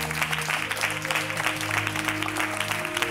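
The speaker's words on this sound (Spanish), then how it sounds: "¡Ese aplauso que suene!" Steady, sustained clapping from an audience with a hint of background music, continuous and fairly loud throughout.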